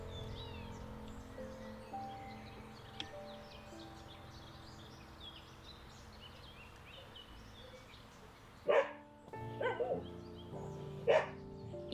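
Dogs outdoors in a quiet natural setting give a few sharp barks near the end, clustered in three short bursts after a long stretch of faint ambience.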